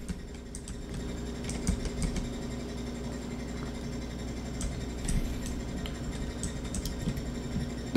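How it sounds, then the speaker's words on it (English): A home washing machine runs in the background, a steady mechanical whirring drone with faint clicks and rattles throughout, moderately quiet and continuous. "I know my washer's going right now"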